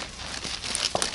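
Thin plastic bag crinkling and rustling as it is set in place for cutting mushrooms outdoors in January, a short close burst of crackly handling noise, no speech.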